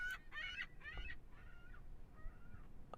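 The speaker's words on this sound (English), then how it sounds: "I have my window cracked open right now because it was getting a little warm in here, and I guess the seagulls are going a little bit wild" Seagulls call outside an open window: a burst of shrill, rapid cries followed by a few softer, drawn-out calls, faint and distant against a low room hum.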